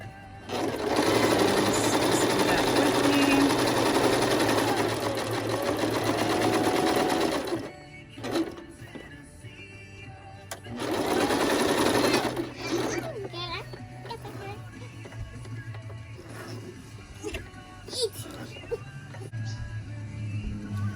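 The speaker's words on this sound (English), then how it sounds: "this piece that we're sewing right now is the back of the head" Sewing machine stitching fabric for the back of a doll's head, running in two loud, steady bursts with a pause and quieter mechanical clicks between, while a voice is faintly heard in the background.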